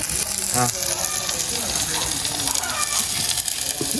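Onions frying with salt in a pan for a potato stir-fry, a continuous sizzle with a brief metallic clink of a spoon near the start, while someone talks over it.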